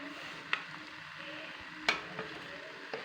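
Cumin and coriander fry in a pan in an Assamese kitchen, giving a faint, steady sizzle. A few sharp knocks of a stirring spoon stand out, with no talking.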